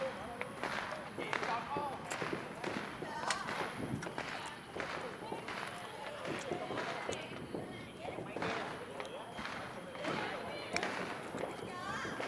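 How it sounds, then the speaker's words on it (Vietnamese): Lunar New Year firecrackers burst in a neighbourhood as a steady barrage of sharp cracks and pops at close to middle distance, with people talking over the racket. "Đó, nguyên một xe pháo rồi các bạn à"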